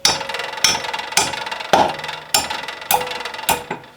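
Hammer blows on a common nail clamped in a vise, seven sharp metallic strikes at a steady, roughly half-second rhythm, each ringing briefly, close and loud with no talking.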